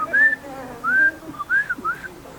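A person whistles with the mouth, four clear rising-and-falling tones in a slow phrase, close and alone with no talk.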